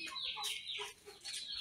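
A Burmese chicken clucks softly close by, a short run of quick, throaty clucks with brief pauses between them.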